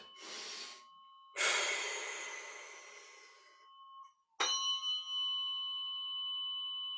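A person takes deep, audible breaths during a guided grounding exercise, with long inhales and exhales separated by pauses, alongside a bright, sustained bell-like ringing tone that fades out.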